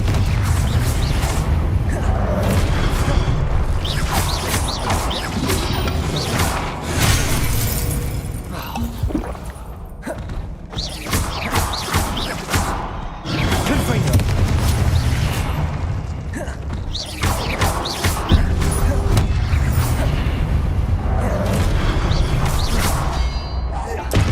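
Confringo spell blasts in the Hogwarts Legacy video game, dense booming and shattering impacts layered over constant combat noise and a rumbling score, with brief quieter gaps between loud bursts and a voice calling out spells.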